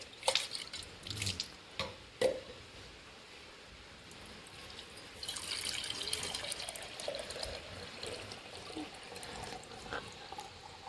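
Water runs from a household tap during a stormy, rainy day, starting with a few short gushes and then settling into a steady, moderately quiet flow that lasts several seconds with no talking.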